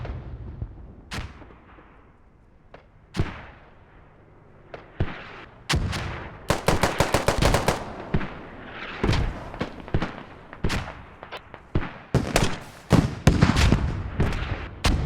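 30 mm cannon fire in a military shooter video game aimed at a building: sharp, heavy booming shots in irregular bursts, some in quick rapid-fire clusters, alongside scattered distant explosions.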